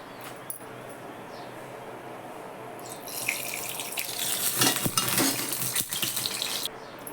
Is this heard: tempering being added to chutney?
yes